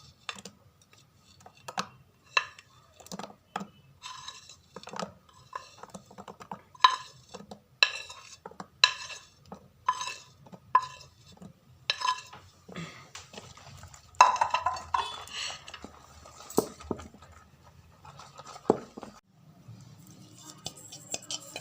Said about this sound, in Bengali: এবার বাটারটা দেখুন মাখানো হচ্ছে, যে বাটিটার মধ্যে আমি করব।